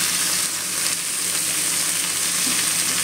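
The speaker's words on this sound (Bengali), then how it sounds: "এবার আমি এই সবজিগুলোকে ভালো করে ভেজে নেব" Vegetables fry in hot oil in a home kitchen pan, a steady, close hiss and sizzle that runs unbroken with no voices.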